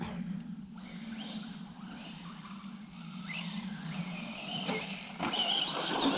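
ARRMA Fury brushless 3650 3900 KV 2S radio-controlled short-course truck driving on dirt, a distant high whine of the electric motor with tire scrabble and skidding, moderately faint and steady.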